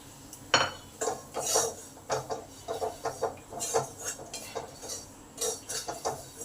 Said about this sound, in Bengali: এই তেলেই ভালো করে নেড়ে নিই